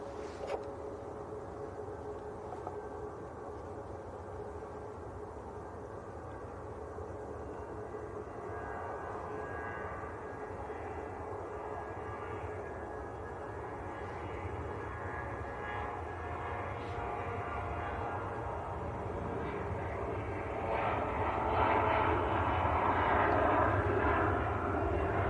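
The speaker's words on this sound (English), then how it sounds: "we've got the Scandinavian CRJ just starting the roll actually" A Scandinavian CRJ regional jet begins its takeoff roll at Manchester Airport, its engine roar heard from a distance and building steadily louder toward the end.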